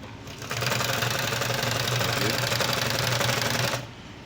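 Super Fashion electric zigzag sewing machine stitching a buttonhole, a fast steady close mechanical whir with rapid needle clatter running about three seconds, starting and stopping abruptly.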